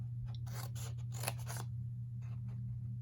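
Scissors snip through paper card for a handmade card, a few quick close cuts in short bursts over a steady low hum, with no talking.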